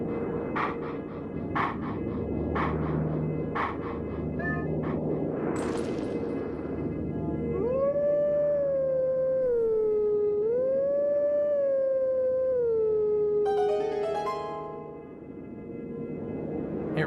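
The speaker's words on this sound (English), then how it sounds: "What a flex to put a howl harmony on the Song of Healing." A howled harmony from the Twilight Princess rendition of the Song of Healing glides in long rising and falling wolf-like tones over a soft sustained musical backing, steady and fairly quiet.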